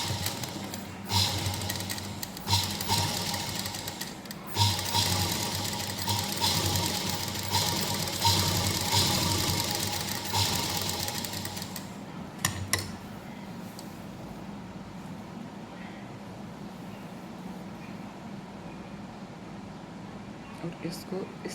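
A sewing machine stitches a salwar in a steady, loud whirring run for about twelve seconds, then stops, leaving faint handling noises and quiet room sound.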